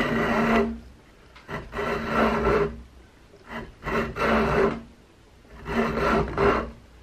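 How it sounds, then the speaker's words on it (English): Hand rasp filing the wooden stock of an Investarms Gemmer Hawken rifle kit during rough shaping, heard as four separate bursts of coarse, rhythmic scraping strokes, close and loud, with short pauses between them and no talking. "I'm able to keep that rasp kind of in a similar line and establish that cut"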